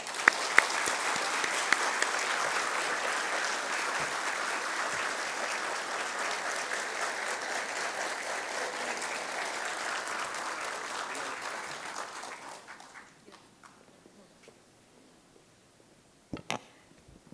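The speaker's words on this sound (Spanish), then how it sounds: "Un fuerte aplauso para ellos." An audience at a history lecture applauds warmly for about twelve seconds, the clapping staying steady and then fading away to quiet, with a few stray claps near the end.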